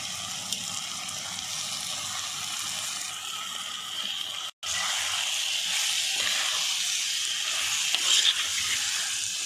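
Washed dried fish hits hot masala in a pan and sizzles loudly, a bright hissing fry with stirring scrapes, broken by a brief silent cut midway before the sizzle resumes.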